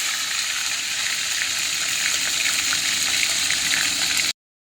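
A hilsa fish head fries in hot oil, giving a loud, steady, close sizzle that runs unbroken before cutting off abruptly near the end, with no voices.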